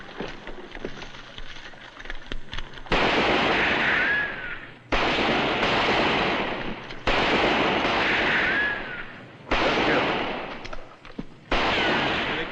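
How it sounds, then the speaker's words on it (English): Rifle gunshots crack out in a western shootout, arriving as loud, dense bursts in several blocks with brief gaps between them, set over outdoor background ambience. "All right, start shooting."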